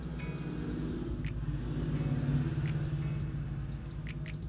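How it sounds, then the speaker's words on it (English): A loud truck passes outside, its rumbling engine dominating as a steady low drone that swells slightly midway, with faint high clicks scattered over it and no talking. "Did y'all hear that truck?"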